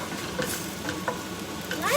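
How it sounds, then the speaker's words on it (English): Frozen keema saag ingredients fry in a pan, giving a steady low sizzle with light stirring scrapes and a few small pops, close and moderately quiet. "We're just frying them off."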